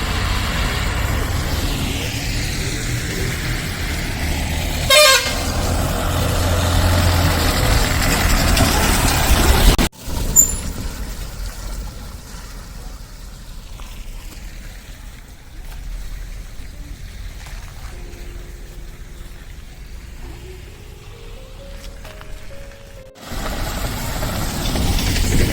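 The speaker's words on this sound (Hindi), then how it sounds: "ये रोड हल्द्वानी बाईपास रोड है और आप देख सकते हैं कि इस पर हैवी ट्रैफिक भी चलता है" Engines rumble and idle along the Haldwani bypass road in heavy traffic, a low steady drone with passing vehicles and a rising whine midway, though no clear horn blasts stand out.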